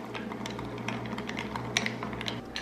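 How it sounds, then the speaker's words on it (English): A spoon stirs a coffee drink made with espresso and brown sugar, quick light clinks and taps against the cup repeating irregularly over a low background hum. "Give it a nice stir."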